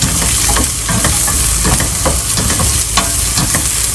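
Onions and zucchini fry in a pan while being stirred, a steady loud sizzle broken by repeated scraping strokes of the utensil, close and with no talking.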